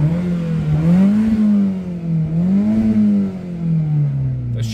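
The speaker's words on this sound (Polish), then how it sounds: "Dodam wam jeszcze w gazu i zobaczycie sobie, jak ten remus pracuje." A Mitsubishi Colt V 1.3 engine with a Remus exhaust revs up and down in two smooth swells, a loud, close, steady engine drone rising and falling in pitch with no talking.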